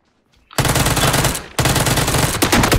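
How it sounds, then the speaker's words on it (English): Loud, close automatic gunfire in PUBG: after a quiet start, two sustained bursts of rapid shots crack out, split by a brief pause, with no talking over them. "I'm shooting at that guy."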